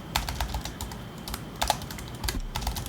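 Rapid, irregular keystrokes clatter on a computer keyboard during a livestreamed coding session in Twine, close and steady throughout with brief pauses between bursts.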